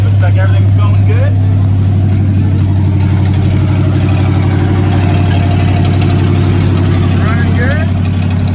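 A 1956 Chevy truck engine idles steadily right after its first start-up in a home garage build, a loud, constant low rumble with faint voices talking in the background.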